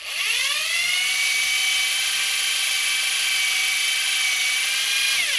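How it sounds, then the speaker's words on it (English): A high-pitched motorized whine spins up quickly and holds steady at close range, then winds down at the end, like a power drill running in reverse. "you put your drill in reverse, you begin"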